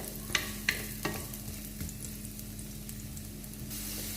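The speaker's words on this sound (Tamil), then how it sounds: "இந்த கேரட்டை நல்லா கீயில் நம்ம வதக்கிக்கலாம்" Carrots sauté in ghee in a kadai for carrot rava kesari with a soft, steady sizzle, broken early by a few sharp scrapes as a spoon stirs the pan.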